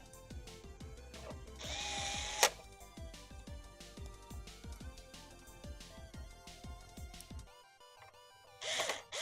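A power tool drives screws into a PlayStation 5 console during a repair: a steady, rhythmic whirring and buzzing with repeated pulses, fairly loud and close, then dropping away near the end.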